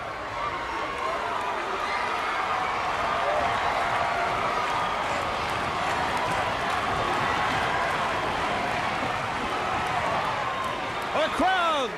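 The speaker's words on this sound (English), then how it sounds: "The crowd going wild, waving American flags." Wrestling arena crowd roaring steadily and wildly for a tag-team bout, a dense continuous wall of cheering with shouts and whistles, while a commentator talks over it throughout.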